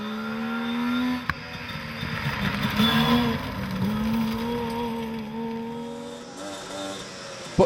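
Stephen Higgins drives his Saab rally car hard on a historic rally stage, the engine droning and revving through shifting pitches as it passes, with a sharp knock near the start and another at the end.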